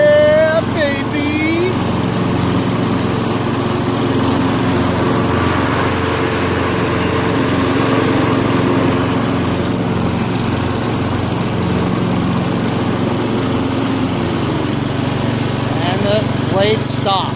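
MTD Cub Cadet riding mower running steadily with its deck PTO engaged, a loud, continuous engine and blade drone close by throughout, with no speech over it.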